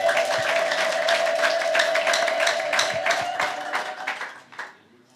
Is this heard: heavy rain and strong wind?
no